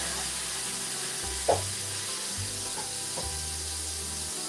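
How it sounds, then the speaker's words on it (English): Ground turkey mashed down with a spatula in a hot pan while cooking shepherd's pie: a steady sizzling hiss with soft scraping strokes and a few brief sharp taps, moderately loud and with no talking. "you want to get a spatula and just continue to mash it"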